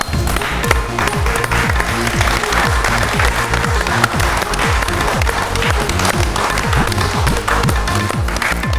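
A studio audience at the Gyana Guru quiz show breaks into vigorous applause after a guest is introduced. Dense, loud clapping continues without a break throughout.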